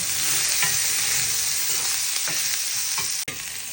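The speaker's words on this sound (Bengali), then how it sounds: "এখানে দিয়ে দিচ্ছি পাঁচফোড়ন আর তেজপাতা আর আলুটি দিয়ে একটু সুন্দর করে একটু ভাজা ভাজা করে নেব" Potato pieces fry in hot oil with five-spice and bay leaf, a steady loud sizzle with a few soft stirring scrapes from a spoon in the pan.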